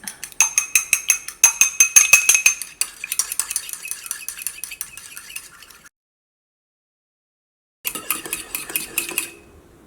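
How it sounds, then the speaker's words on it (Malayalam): Eggs beaten with salt in a bowl, a utensil clicking rapidly and rhythmically against the sides in bursts, then a pause of silence before the brisk whisking resumes. "നമ്മുടെ മുട്ട നന്നായിട്ട് മിക്സ് ചെയ്തെടുത്തിട്ടുണ്ട്"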